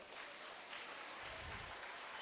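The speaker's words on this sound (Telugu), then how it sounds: "తల్లిదండ్రులకు ఒకసారి చప్పట్లు కొట్టండి అమ్మ అందరూ." Audience applause at a school's 33rd anniversary celebration: steady, dense clapping from a crowd, fairly distant and soft, lasting a couple of seconds with no pauses.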